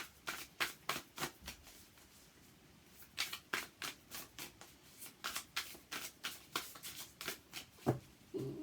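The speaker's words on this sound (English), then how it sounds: "I'll give them a good shuffle." Tarot cards shuffled by hand in quick bursts of crisp riffling strokes, close and quiet, with short pauses between rounds.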